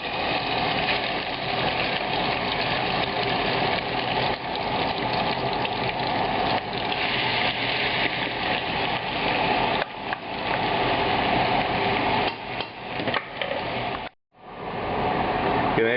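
Paste scraped from a food processor sizzles and spatters steadily in hot oil in a pan while making Chinese XO sauce, a loud, dense frying hiss that holds nearly continuously, dipping briefly near the end.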